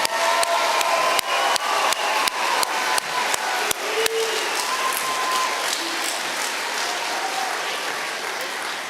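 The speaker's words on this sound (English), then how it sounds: "Let's give Class 159 a cumulative round of applause." A graduation crowd gives a long round of applause for the graduating class, dense clapping with sharp repeated claps standing out early, then a steady roar that slowly thins.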